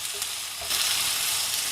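Onions sauté in a pan for poori potato masala, a close, even frying sizzle with a faint stir, swelling louder partway through and holding steady.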